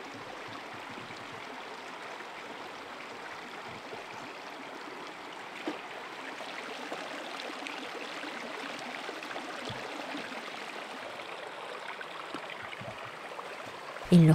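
A stream flows steadily at a narrow point in the channel, a continuous close rushing and trickling of water with no voices.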